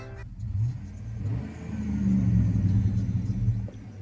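A new pickup truck's engine revs, heard from inside the cab as a deep, muffled rumble that swells and eases, climbing to a sustained higher rev near the end, with no talk.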